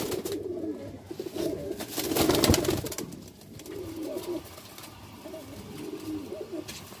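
Deobandi pigeons coo in low, repeated rolling calls close by, with a rustle of movement partway through.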